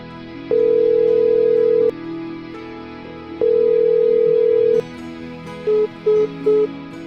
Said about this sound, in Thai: เป็นเสียงที่ถูกตัดสาย แต่คุณยายเยาไม่รู้ว่าเสียงนี้คือเสียงที่ปลายสายกดสายทิ้ง